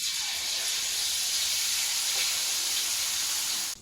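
Chicken sizzling and hissing in hot oil in a wok, a loud continuous frying hiss that holds steady throughout with no speech.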